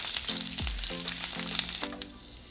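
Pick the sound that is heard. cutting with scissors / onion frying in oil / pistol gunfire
onion frying in oil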